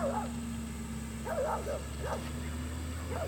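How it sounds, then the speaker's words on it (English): A dog barks several times at an outdoor protest in Virginia, the barks coming in small bursts spaced over a few seconds, fairly distant beneath a steady background hum. "Oh, I hope that dog won't come over here."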